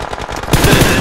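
Machine gun fire in PUBG Mobile on the Erangel map during a tournament match, a quick rattling burst that grows louder and denser halfway through, close and without talk.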